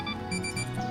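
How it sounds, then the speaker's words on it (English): A visual novel character gives off a steady electronic beeping, a string of short, even, alarm-like tones with no talk over them. "Kazuki stopped mid-sentence and emitted an odd beeping noise."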